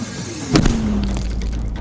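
A single sharp booming shot from a 120 mm mortar cracks out nearby, followed by a short ringing tone and a fading rumble.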